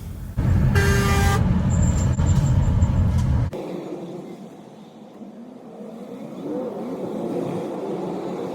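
A truck passes close by a small learner car on a road in Borehamwood, a loud roaring pass with a horn-like tone, cut off abruptly and followed by quieter road noise.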